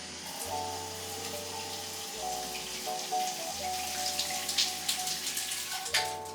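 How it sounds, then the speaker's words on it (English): A rainfall shower in an upstairs bathroom running steadily, a close, continuous hiss of falling water with a low droning hum underneath and a few louder splashes toward the end. "So this type of shower, what's it called? Rainfall shower."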